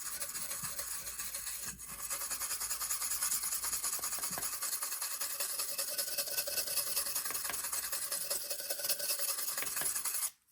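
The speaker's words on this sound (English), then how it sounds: "So we're gonna go ahead and polish these bad boys up a little bit. Get rid of the oxidation" Oxidation is polished off steel TIG weld beads with a continuous, close, raspy rubbing. It holds at a steady level for about ten seconds, then cuts off abruptly.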